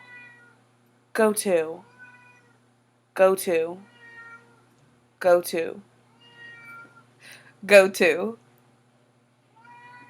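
A cat meows four times, each cry loud, close and drawn out, spaced a couple of seconds apart in a quiet indoor room, with a person repeating a short phrase between the meows.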